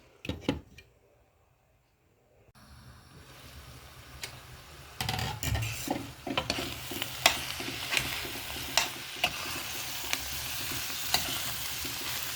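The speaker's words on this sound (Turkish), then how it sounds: "kıymayla soğanı birleştirdikten sonra bu şekilde de 5-10 dakika kaynaması lazım." Minced meat and onion filling cooking in a pan for içli köfte, a near, steady sizzle that starts after a quiet opening, with regular ticking taps and scrapes of a spoon stirring, and no talking.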